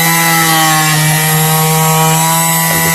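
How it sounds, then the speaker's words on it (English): Sandpaper is rubbed hard against the corroded lip of an alloy wheel, making a loud, continuous abrasive rasp that stays steady for the whole stretch, close up with no voices. "and just sand it down,"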